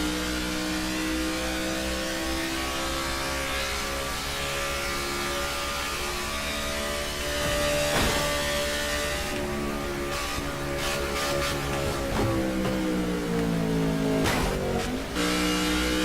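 A race car engine in the NASCAR '14 video game drones loud and steady at high revs, its pitch holding level before dipping and surging near the end, punctuated by a few brief knocks.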